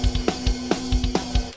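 Raw recorded drums before mastering, with kick and snare hits in a short steady groove, loud and close, with no voices.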